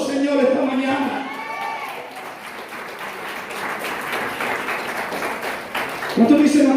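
A church congregation applauds the Lord at a Spanish-language morning service, a moderate spread of clapping with a preacher's voice carrying over it at the start and breaking in again at the end.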